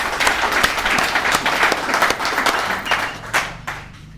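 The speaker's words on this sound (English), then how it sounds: "Let's give Junior another round of applause." Round of applause from an audience at an alumni meeting of a recovery services group, steady dense clapping throughout, fading slightly toward the end.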